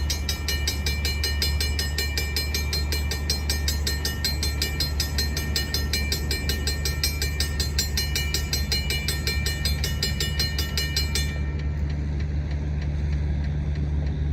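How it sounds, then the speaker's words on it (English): Two ALCO road diesel locomotives, a C430 and a C425, pull a freight train out of Lakeville, with a steady loud engine drone and rumble throughout and a high ringing tone that cuts off near the end. "2 of their road units head out of Lakeville with the road train"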